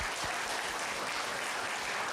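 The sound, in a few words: congregation applause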